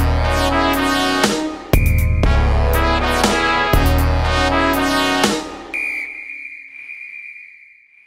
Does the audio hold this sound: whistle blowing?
yes